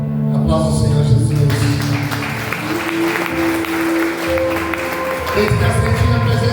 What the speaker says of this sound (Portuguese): Aplausos ao Senhor Jesus